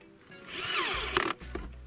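A self-tapping screw is driven with a powered screwdriver to fix a plank to a fold-out fish-finder table for a PVC boat, giving a short rising motor whir and a few clicks and taps, close up.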